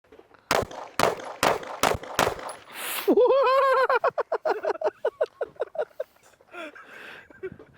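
A handgun fitted with a DPM recoil reduction system fires five sharp, loud shots in rapid succession, followed by excited voices and laughter close to the shooter.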